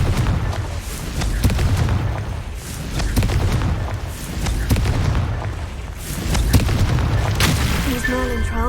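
A Confringo blasting spell goes off in the PS5 game Hogwarts Legacy, with loud booming explosions in repeated bursts over a dense bed of game effects and music, ending in a rising tonal chime.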